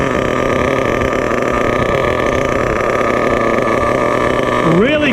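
A Losi 8ight nitro RC buggy engine idles close by with a steady, loud, even buzz that holds throughout; near the end a brief rising and falling whistle-like tone sounds over it.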